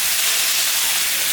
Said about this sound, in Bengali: মশলাটা ভাজা হয়ে যাচ্ছে,